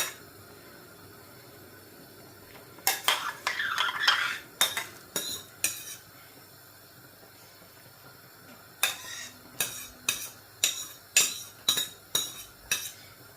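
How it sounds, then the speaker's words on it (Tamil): Crushed green chillies being stirred into tamarind porridge in a metal pot, with two bursts of rhythmic spoon clinks and scrapes against the pot separated by a quiet pause, close and fairly sharp. "நசிச்செடுத்த பச்சை மிளகாயை திருப்பி வந்து இந்த கஞ்சிக்குள்ளேயே போட்டுக்கொள்கிறேன்"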